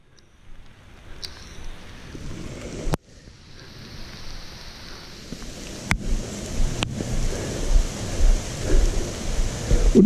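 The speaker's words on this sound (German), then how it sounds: "Oh, jetzt regnet es noch richtig." Heavy rain pours outdoors near old abandoned mine pits, a dense hiss that builds louder over time, broken by a few sharp clicks.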